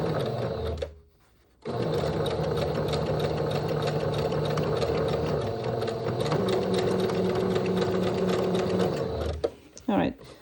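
A sewing machine stitches fabric into ruffles, its rapid mechanical whir running steadily and loudly, dropping out briefly near the start and stopping just before the end.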